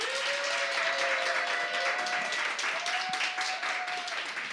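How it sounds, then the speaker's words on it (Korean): Crowd applause and cheering at a youth and student rally marking the second anniversary of the September Pyongyang Joint Declaration, a dense, steady wash of clapping that holds at the same level throughout, with a sustained voice or tone running beneath. "시청하시는 모든 분들의 큰 박수와 함성으로 시작해 보도록 하겠습니다"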